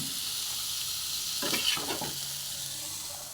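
Steady hiss of frying in a wok as salt is sprinkled in, with a few brief scraping stirs in the middle, no voices.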